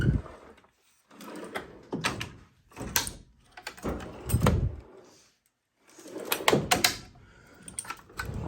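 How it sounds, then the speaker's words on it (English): Drawers on a 72-inch US General steel tool box slide shut one after another, each ending in a soft metallic clunk, spaced in irregular bursts with short quiet gaps between. "You can see how easy these drawers close."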